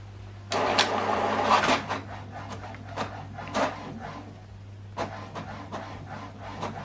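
An HP printer runs through a double-sided colour print job, with an initial loud whirring feed followed by a series of irregular mechanical clicks, thumps and rollers moving at close range over a steady low hum.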